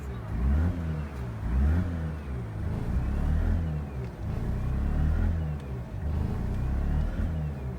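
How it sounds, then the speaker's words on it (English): A Mazda RX-8 engine revs over and over as the gas is pressed repeatedly, rising and falling in rough surges, loud and close, with no speech. "I have to literally keep pressing gas over and over and over."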